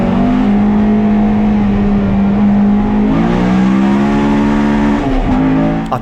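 Honda Civic EG3 in Spoon race trim driving hard on a circuit, a loud sustained engine drone holding steady, then shifting pitch around the middle as it revs again, with faint tyre noise and no talk.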